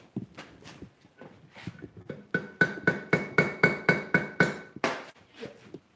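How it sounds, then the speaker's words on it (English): A power hammer forging hot steel chain strikes in a rapid, even run of about ten sharp metallic blows, preceded by a few scattered knocks and followed by one more hit and quieter taps. "now you'll see the power hammer"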